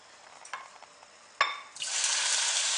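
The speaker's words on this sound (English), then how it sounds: "Then I'm going to throw in the shrimp" Peeled shrimp hit hot oil in a wok for a shrimp and cashew nut stir fry, bursting into a loud, steady sizzle that continues to the end after a few soft clinks and a sharp knock.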